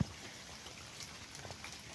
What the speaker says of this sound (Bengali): বৃষ্টি কাল থেকে বৃষ্টি আর থামে না, টিপ টিপ টিপ টিপ হয়েই যাচ্ছে হয়েই যাচ্ছে।